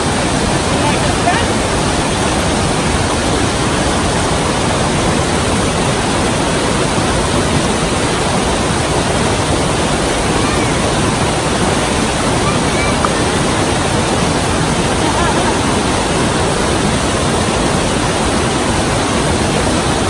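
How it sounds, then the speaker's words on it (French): A small waterfall in Rocky Mountain National Park pours in a loud, dense, steady roar of rushing water, close and unchanging, filling the whole stretch. "on a trouvé une petite cascade"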